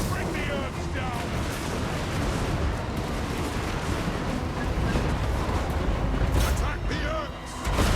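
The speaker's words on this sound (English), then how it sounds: "The flame cannons are brought to bear, engines of burning wrath forged for this very hour." Dwarven flame cannons fire in a Total War battle against Orcs, a dense, continuous roar of booming artillery and rumbling blasts filling the scene, with a voice speaking briefly over the din.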